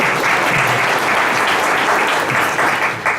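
Loud, steady audience applause from a startup investor forum crowd fills the room with dense clapping for about three seconds, fading slightly at the end.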